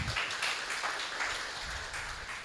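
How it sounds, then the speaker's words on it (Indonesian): A church congregation at a GPdI service applauding together, a broad, steady wash of many hands clapping at moderate distance, fairly soft overall. "Tepuk tangan dulu buat Bu Ruth."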